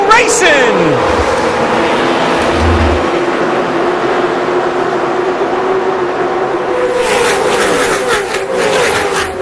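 NASCAR Busch Series race cars at the start of the 2004 Winn-Dixie 250, a dense steady roar of many engines droning throughout, with a passing whine and rising pitch sweeps, loud and continuous under crowd and commentary noise.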